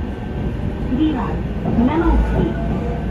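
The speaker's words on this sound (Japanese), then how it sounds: "この列車は普通列車の豊川行きワンマン列車です" Meitetsu one-man local train bound for Toyokawa rumbling along the shared track section near Toyohashi, a steady close interior drone with an announcement voice over it.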